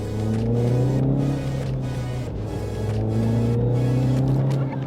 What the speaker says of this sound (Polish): Posłuchamy teraz nieco brzmienia silnika.